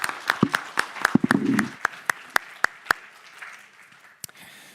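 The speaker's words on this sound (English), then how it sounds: "Once again, big applause." Audience at a game pitch event clapping in a sparse, uneven patter of individual hand claps, fairly faint and distant, with a short murmur of voice partway through.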